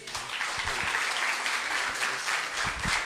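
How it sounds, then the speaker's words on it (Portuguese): A church congregation at an evening service applauds continuously, a dense and fairly loud wash of clapping that holds steady throughout with no speech. "Vamos aplaudir ao Senhor mais uma vez?"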